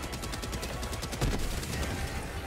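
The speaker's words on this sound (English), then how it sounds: "I'll shoot it." Rapid automatic gunfire from a weapon in the video game Helldivers 2, a dense rattling burst of repeated shots that continues steadily throughout at moderate loudness.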